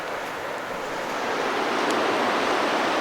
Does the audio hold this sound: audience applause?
no